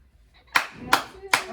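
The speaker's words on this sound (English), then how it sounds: "Clap it up, clap it up, clap it up." Three sharp, evenly spaced claps from a small group in a quiet indoor room, close and distinct with brief silences between them.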